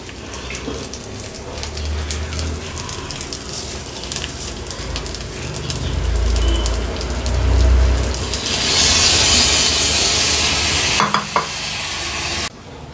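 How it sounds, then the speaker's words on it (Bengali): Gobindobhog rice sautéed in a wok, a continuous sizzling hiss with frequent scraping and stirring that grows louder and brighter toward the end, close and alone, with no voices. "এবার এই চালটা আমি কড়াইয়ের মধ্যে দিয়ে একটু সাঁতলে নেব।"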